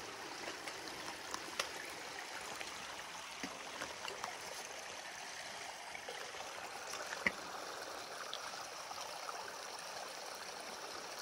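A stream flows steadily nearby on the Appalachian Trail, a constant gentle rushing of water with faint trickles and no voices.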